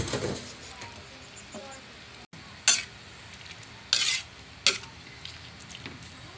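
Bihon rice noodles stirred in a frying pan for pancit, with a steady soft sizzle under scraping and a few sharp utensil clacks against the pan, close by.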